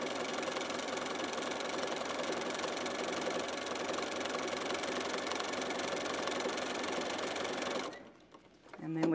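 Domestic sewing machine running steadily while free-motion quilting small back-and-forth swirls, a loud continuous motor whir and rapid needle chatter that stops abruptly near the end, leaving quiet.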